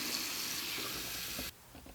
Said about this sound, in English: I'm going to fill this up, not too much, maybe about a couple inches.